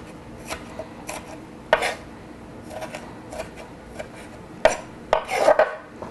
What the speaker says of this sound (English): I'm just going to do a little chop this way